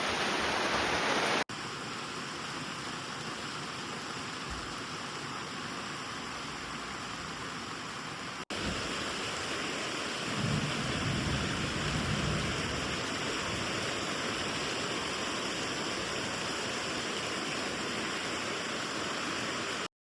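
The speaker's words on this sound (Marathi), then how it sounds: "पावसाने जोरात हजेरी लावली" Heavy rain pours down in a Konkan village in a steady, dense hiss that barely changes from start to finish, with no voices.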